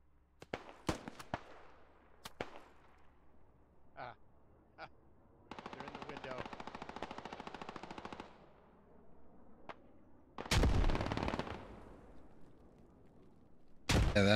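Machine gun fire in the video game Squad: sharp single cracks, then sustained automatic bursts, and a loud close burst near the end, with quiet gaps between.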